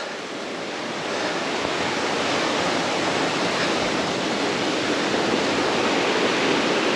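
A creek on a hiking trail to a Stinson wreck gives a steady, dense rush of flowing water, loud and close. The broad wash holds evenly for the whole stretch with no one talking.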